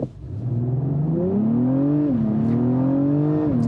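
A 2024 Acura TLX Type S sedan with a 10-speed automatic accelerates at full throttle, its engine note climbing loudly and steadily, dropping briefly at two quick upshifts before rising again, with no talk over it.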